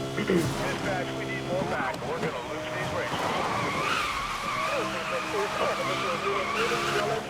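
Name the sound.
car driving and skidding in Need for Speed Most Wanted video game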